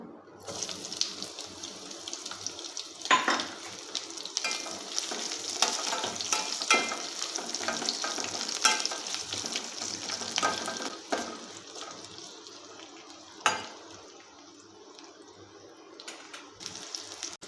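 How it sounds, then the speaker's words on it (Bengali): Chopped onion drops into hot oil with whole black mustard seeds and five-spice for a pumpkin and greens curry, giving a soft steady sizzle with occasional stirring clatters, close and fairly quiet. "এবারে দিয়ে দেব পেঁয়াজ কুচি।"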